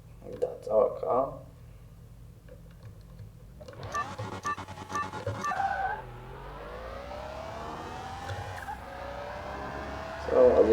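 Drag racing car engine in Car Mechanic Simulator 2021, revving up sharply then holding a steady, rising drone, with brief bursts of talk near the start and end.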